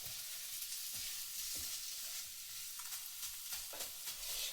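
Egg rice stirred and sautéed in a pan, cooked like kothu parotta, with a steady soft sizzle under repeated scraping and stirring strokes of a spatula, fairly close, no talk.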